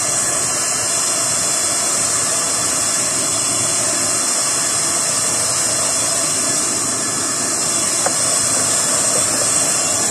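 A waste oil stove with a six-inch burner chamber and 36-hole nozzle roars steadily under forced air, a constant loud hiss with a deep rumble beneath it, unbroken for the whole stretch with no voices.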